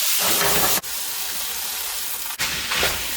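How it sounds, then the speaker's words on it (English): Garlic cloves soften in a hot pan for chili, giving a steady, fairly loud hiss and sizzle, broken twice by brief dips, with no voices. "I'm just gonna soften up that garlic for 1 minute"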